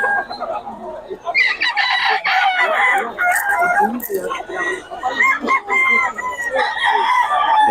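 Chickens cluck and a rooster crows repeatedly amid a busy, noisy market crowd in Bocaue, with the birds close and loud over constant background chatter.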